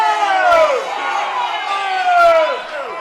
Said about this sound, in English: And the crowd not happy about that one.